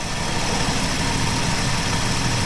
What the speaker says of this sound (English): That is one running slant 6.